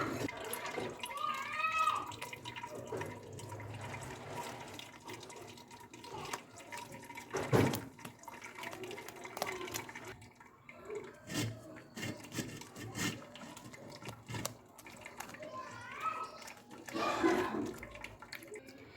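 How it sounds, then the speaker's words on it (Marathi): Water splashes and soaked ground wheat is mixed by hand for kurdai, wet squelching and rubbing in bursts, with someone talking over much of it. "परत याच्यामध्ये आपण थोडंसं पाणी टाकून घेऊ आणि हे गहू मस्त मिक्स करून घेऊ"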